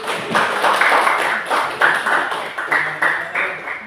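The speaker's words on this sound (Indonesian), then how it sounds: "Tepuk tangan buat Ibu" Scattered clapping for someone speaker at a moderated forum, uneven bursts of hands with a ringing tone in places and a voice talking over it.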